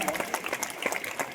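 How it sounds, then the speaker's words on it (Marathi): Audience applause for a student at a school-style gathering, a brief burst of dense, steady clapping from many hands, fairly close and continuous. "जरा एका जोरदार टाळ्या."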